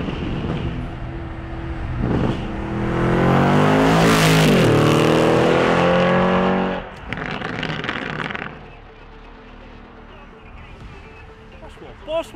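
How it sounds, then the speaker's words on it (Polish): A Lamborghini Urus roars past at full acceleration, swelling to a loud close peak with a falling pitch sweep, then fading; a second engine burst follows briefly before quieter background. "Ten samochód jest turbo głośny,"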